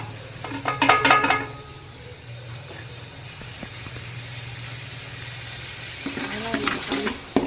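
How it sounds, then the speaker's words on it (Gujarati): Chili, garlic and ginger paste hits a hot pan of oil while pav bhaji is being made in a home kitchen, giving a close burst of sizzle early on, then a steady low hiss and another stirring sizzle toward the end. "આ આ છે એ મરચાં લસણ અને આદુનો પેસ્ટ છે એ આપણે આમાં નાખી દઈએ"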